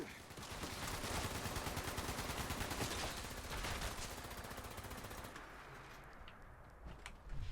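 Sustained automatic weapon fire in Fallout 76, a dense continuous burst with the trigger held down, loud and close, before tapering off near the end with scattered shots.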